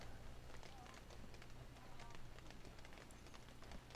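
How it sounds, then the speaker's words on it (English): Heavy outdoor rain pours down and drips off a canopy just in front of the recorder, a dense, continuous patter dotted with sharp, close droplet taps throughout. "And raining hard again. We can see the rain dripping off the canopy in front of our camera."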